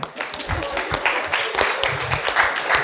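Audience applause at a cybersecurity panel discussion: a steady wash of many hands clapping at close range, continuing for a few seconds with a faint murmur of voices underneath.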